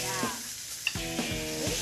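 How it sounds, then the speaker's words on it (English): Hissing sizzle of peas and cumin seeds frying in hot oil, with light clinks and scraping as a pan is stirred, close up. "Hear that sizzle?"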